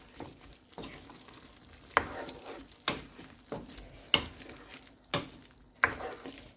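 Pork curry with green chilies fries in a pan, a soft steady sizzle broken by a series of sharp utensil scrapes and knocks at a roughly regular pace, close but fairly quiet.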